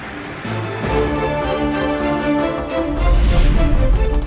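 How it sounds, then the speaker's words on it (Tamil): Floodwater roars over the Hogenakkal waterfalls on the Kaveri river, a loud, steady rushing wash that swells heavier toward the end. "ஒகேனக்கல் அருவிகளில் ஆர்ப்பரிக்கும் வெள்ளம்."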